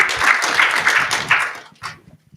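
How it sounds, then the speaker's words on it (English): An audience at a global healthcare panel gives a short round of applause that swells and then fades out within a couple of seconds. "I think that deserves a clap"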